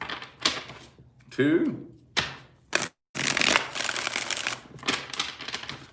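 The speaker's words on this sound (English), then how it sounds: "Let's get 5 shuffles here." Tarot cards shuffled in a mini reading, a few quick riffling bursts broken by short gaps, with thumps of the deck, near and fairly loud, while a person counts aloud between shuffles.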